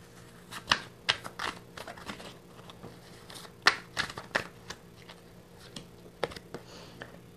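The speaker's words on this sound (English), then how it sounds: "I'm going to draw out a few cards and then we'll talk about them." Tarot cards being shuffled and drawn by hand: a sparse run of crisp, close snaps and riffles, some louder than others, spread across a quiet background with no talking.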